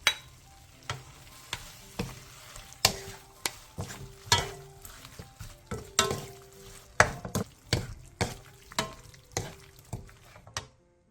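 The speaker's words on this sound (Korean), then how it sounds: "들기름 3분의 2스푼, 통깨, 대파, 양파, 고추를 넣고 1분 정도 더 볶아 마무리해주세요" Washed aged kimchi stir-fried with perilla oil, sesame seeds, green onion, onion and chili sizzles softly under a regular run of sharp spatula scrapes and taps against the pan, about one per second, close and without voices.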